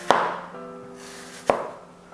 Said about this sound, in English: So you hold like this, and then you cut slices